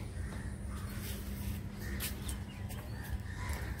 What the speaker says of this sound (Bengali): পাখির বাচ্চা ডাকছে জানো